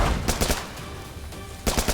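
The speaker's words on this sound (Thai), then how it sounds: "ยิงยิงปืนใส่รัวเลย" Rapid gunfire bursts out in The Culling, loud close volleys of shots at the start, a ringing lull, then another quick burst at the end.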